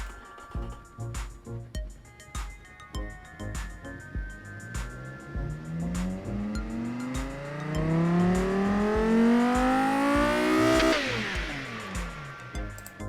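Engine revving in the Automation car tycoon game, a large simulated V10 in the style of a Gen 6 Viper climbing toward 7,300 RPM, its harmonics rising steadily before one sharp peak and drop, with quieter idle bursts earlier.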